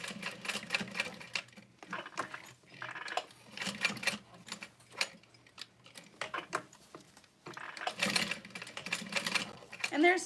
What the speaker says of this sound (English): then I just sew a box stitch